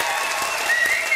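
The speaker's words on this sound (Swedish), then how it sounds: "det är verkligen berättigade applåder" An audience claps loudly and steadily during a Swedish televised bingo lottery show, a dense, continuous wash of many hands with no voices over it.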